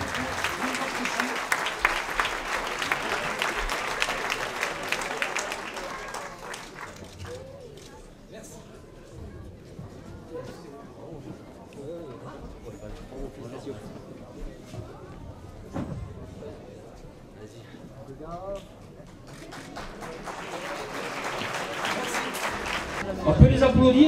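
A crowd at a 2017 Aude athletics awards ceremony claps for the women's Master 1 athletes, with a burst of applause at the start, a lull of murmured talk and chatter, then renewed clapping swelling near the end.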